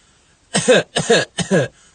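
Three forceful coughs close to the mic, evenly spaced with short pauses between them, in an otherwise quiet room.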